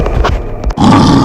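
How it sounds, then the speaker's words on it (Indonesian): A loud, deep, rumbling roar from a large creature, close and harsh, with a brief break before it swells again. "Asgar mengaum keras."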